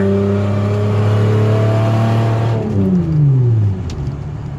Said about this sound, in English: Put the power mode on since it's a VVTi motor.